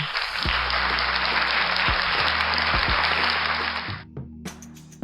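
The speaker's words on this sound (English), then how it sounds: "Applause for them." Applause rings out for a K-pop band on a hangout talk show. The clapping is loud, steady and dense for about four seconds with a low hum beneath, then stops sharply, leaving a few brief sounds.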